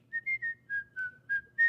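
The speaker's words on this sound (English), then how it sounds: "I can whistle really good" A person whistles a short tune of about seven clear, close notes, each held briefly with small gaps between them, and no talking over it.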